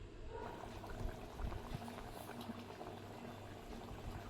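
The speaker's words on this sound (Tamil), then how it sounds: "நல்லா ஒரு 5 நிமிஷம் இந்த அளவுக்கு கொதிக்க வச்சுக்கோங்க" A pot of kurma curry bubbles at a steady rolling boil, a continuous close-up simmer with soft pops and gurgles and no voices.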